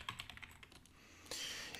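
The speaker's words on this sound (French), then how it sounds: "Dans cette petite fenêtre, vous tapez le mot division" Someone types a word on a computer keyboard in a quiet room, a quick run of light, close key clicks followed by a brief louder clatter near the end.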